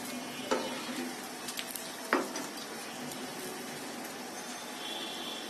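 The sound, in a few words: snack frying in oil, sizzling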